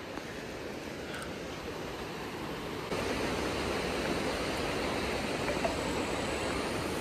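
A rushing mountain river in Pelling, Sikkim, roars as a steady, dense wash of water noise that grows slightly louder partway through and continues unbroken with no voices.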